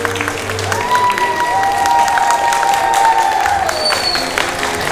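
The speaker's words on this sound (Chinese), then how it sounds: "掌声欢呼声在哪里？" Audience at a Chinese singing contest final in Christchurch breaks into loud, sustained applause and cheering, a dense crowd roar with whistle-like tones rising above it.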